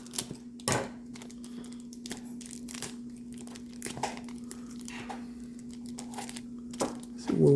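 A plastic cover crinkles and crackles in irregular bursts while a watch is unboxed, close and fairly quiet, with a steady electrical hum underneath.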